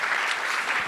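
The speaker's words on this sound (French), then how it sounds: "on peut peut-être aussi les applaudir" An audience claps at an award ceremony for creative-industry project winners, a dense, steady burst of applause filling the room without pause.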